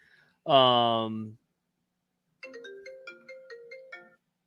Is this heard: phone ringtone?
yes